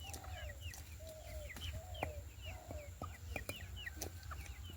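Chickens clucking in short, repeated calls at a moderate distance, with a steady low rumble and faint bird chirps in the background.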